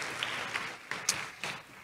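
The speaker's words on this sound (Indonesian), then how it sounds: "Kasih tepuk tangan yang meriah untuk Tuhan Yesus." A church congregation applauds in a sanctuary, a fairly faint, diffuse wash of clapping with a few sharper accents standing out from the crowd.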